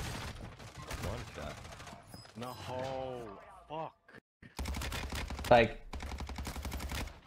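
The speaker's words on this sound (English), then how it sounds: "I literally sniped her here" Rapid bursts of gunfire in a Warzone 2 kill cam replay of a sniper kill, loud and dense with a short gap midway, while someone talks.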